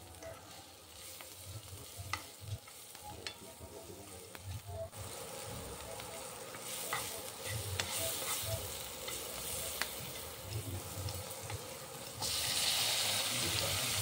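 Capsicum sizzles in a frying pan with a pinch of salt while chilli paneer is made, a steady crackling hiss with occasional stirring scrapes, growing louder and brighter near the end; no one speaks.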